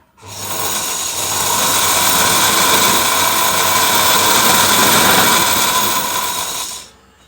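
Thread wound onto a sewing machine bobbin driven by a screwdriver instead of a bobbin winder, giving a loud, steady whirring buzz that starts abruptly, holds for several seconds and cuts off.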